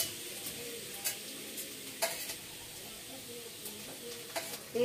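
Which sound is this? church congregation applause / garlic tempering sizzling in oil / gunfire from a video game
garlic tempering sizzling in oil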